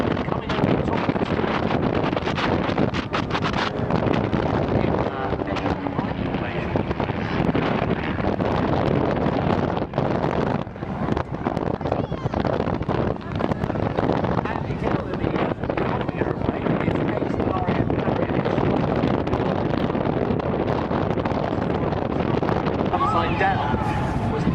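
Strong wind buffets the microphone on the seafront during the Weston-super-Mare air show, a continuous loud roar and rumble, with a voice talking beneath it.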